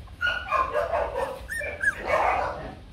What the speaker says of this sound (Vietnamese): Sủa đấy.